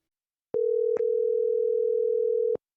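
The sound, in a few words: voicemail system recording tone beep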